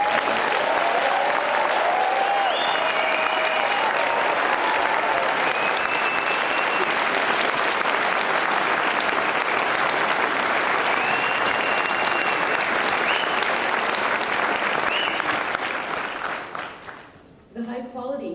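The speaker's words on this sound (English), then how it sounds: "One round of applause for everyone." A graduation ceremony audience applauds, steady dense clapping filling a large hall for well over ten seconds before fading out, with a few cheers over it.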